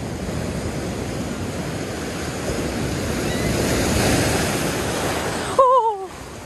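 Ocean waves surging and splashing on the beach at Myrtle Beach on a rainy day, a loud continuous roar of surf with wind buffeting the microphone, then a short high squeal near the end.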